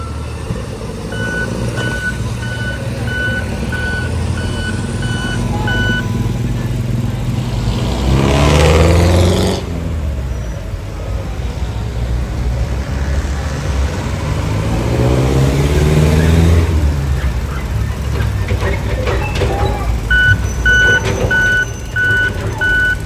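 Busy early-morning street traffic near Divisoria in Manila: trucks and other vehicles rumble past, engines revving, while a truck's reversing alarm beeps in steady repeated bursts, loud and close, with passing swells of engine noise.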